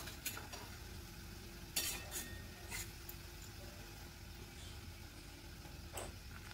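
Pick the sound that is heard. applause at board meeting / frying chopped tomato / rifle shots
frying chopped tomato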